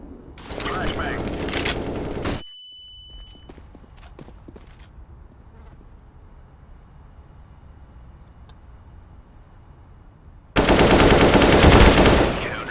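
Rapid gunfire from CS:GO rattles in two loud sustained bursts, one at the start and one near the end, with a quieter stretch between holding faint clicks and a short beep.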